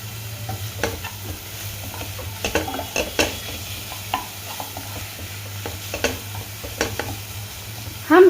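Crushed carrots sautéed lightly in butter in a pan, a soft background sizzle broken by repeated scraping stirs at an uneven pace, with a sharper clatter at the very end; no talking.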